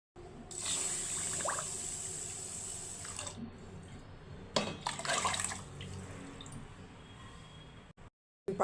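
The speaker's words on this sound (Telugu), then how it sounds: "దీనికి సరిపడా నీళ్ళు తీసుకుంటాను" Water poured into rice for bagara rice, a steady close trickle and splashing for several seconds, with a louder pouring burst midway before it stops abruptly.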